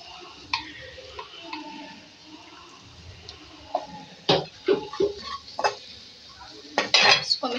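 Chopped green chilli and red chilli are mixed for a chicken aloo resha kabab, with light clinks of a spoon against a metal bowl and scattered stirring taps that grow busier toward the end, close by and fairly quiet.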